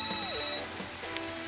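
A telephone rings with a bright electronic tone at the start, fading after a moment, over a steady hiss of background noise in a Telugu film scene.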